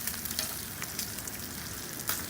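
Thick cut bacon fries on a Blackstone griddle outdoors in a snowy morning, with a steady close sizzle and crackling pops, no talk.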